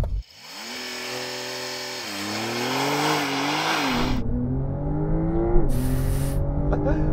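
A Porsche 911 Turbo S full of passengers and carrying 150 kg of ballast in the front boot launches hard, its engine note climbing steadily through several gearshifts, loud and close from inside the cabin.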